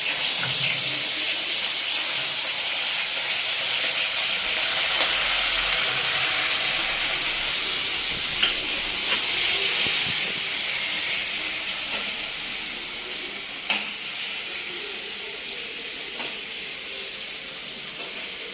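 Pui shak (Malabar spinach) frying in oil gives a loud, broad sizzling hiss that holds steady and slowly eases, with a few faint clicks and knocks near the end.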